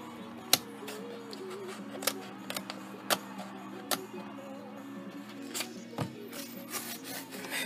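Scissors cut through a card gamer magazine page, giving quiet, scattered snips and papery rustles at an irregular pace, close by.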